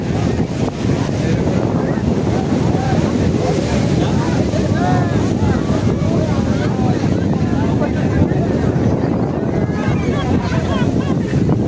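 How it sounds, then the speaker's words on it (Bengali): Ocean waves roll in one after another on Juhu beach, Mumbai, a loud, continuous surf roar mixed with wind buffeting the microphone and a busy crowd murmuring in the background. "প্রচণ্ড একটা গতিতে একের পর এক ঢেউ কিন্তু আছড়ে পড়ছে ধীরে ধীরে।"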